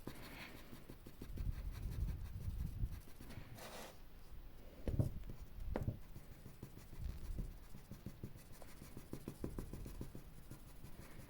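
A B pencil drags across paper in soft, scratchy strokes that come in short bursts with brief pauses, quiet and close.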